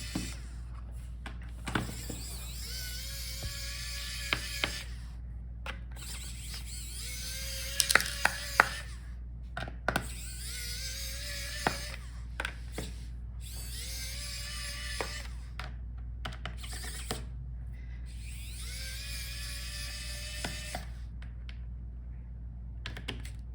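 Small screws being backed out of the bottom panel of an Asus ROG Zephyrus M16 GU604VI laptop, a string of faint scattered clicks and ticks over a low steady hum, with no talking.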